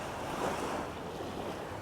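Surf at Sai Kaew Beach on Koh Samet, Thailand, washes in as a steady, moderately close wash of breaking water with light wind noise across the microphone and no voices.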